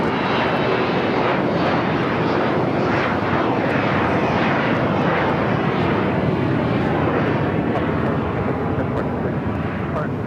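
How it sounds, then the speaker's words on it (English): A Oneworld Dreamliner airliner comes down onto runway 25 right at LAX, its broad, steady jet roar heard loud and continuous throughout, with voices talking over it. "the One World Dreamliner heading down to 25 right"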